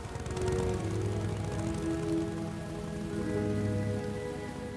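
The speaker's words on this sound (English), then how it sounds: "he leaves her in the pouring rain." Pouring rain from a scene in the film Ghost Rider, a constant heavy wash of downpour holding at one level throughout, with a low tonal hum beneath it and no voices.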